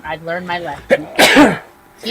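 A single loud sneeze bursts out in the middle of casual conversation, with someone talking before and just after it.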